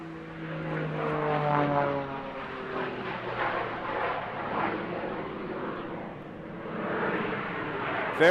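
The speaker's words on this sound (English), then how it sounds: "Very, very distinctive sound when he kicks in the jet engines." A display aircraft's engines roar at a seaside airshow as the jet climbs into vertical manoeuvres. A steady droning note slides lower as it passes at moderate distance, loud and unbroken, with no voices.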